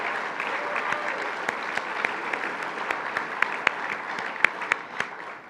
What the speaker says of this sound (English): So please help me give Jamie a big round of applause so she understands how much we appreciate her work.